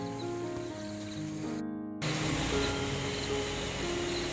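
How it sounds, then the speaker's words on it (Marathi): Water gushes steadily from a cow-mouth stone spout at a village goddess temple, a dense, loud rushing splash that runs unbroken, briefly cut out before resuming fuller, with no talking. "गायमुखातून पाणी बघा असलं सुसाट पडतं एकदम"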